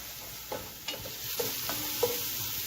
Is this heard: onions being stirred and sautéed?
yes